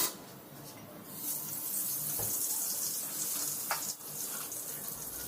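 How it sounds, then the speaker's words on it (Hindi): Mustard oil hits a hot pan and sizzles in a steady, hissing wash that swells after a second and holds, with a couple of faint clinks. "अब मैं यहाँ सरसों तेल डाल देती हूँ।"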